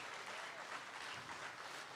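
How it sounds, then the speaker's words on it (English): A crowd applauds at a high school dedication ceremony, a faint, distant, steady patter of clapping with no break. "We should have everybody clapping on that"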